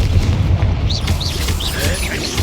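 A Bombarda blast spell cast in the fantasy game Hogwarts Legacy, a deep booming explosion with rumbling low end and scattered magical chimes, under a voice.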